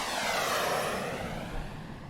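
An airplane flies past in the video game Drunkn Bar Fight, a smooth, steady engine roar with a broad whooshing sweep, moderately loud and alone for about two seconds.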